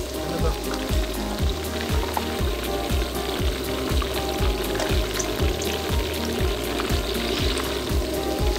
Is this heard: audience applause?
no